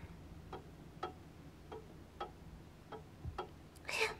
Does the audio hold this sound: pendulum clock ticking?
yes